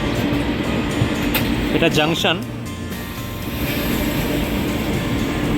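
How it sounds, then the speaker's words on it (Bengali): The 13051 Netaji Express pulls into Old Delhi railway station, giving a steady, loud rumble of rolling wheels and carriages throughout, with someone speaking briefly over the noise. "আমাদের ট্রেন এখন ঢুকছে ওল্ড দিল্লি রেলওয়ে স্টেশন।"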